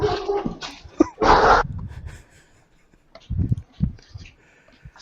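A dog whimpers and yips in short, close bursts with pauses between them, some yelps sharper and louder than others.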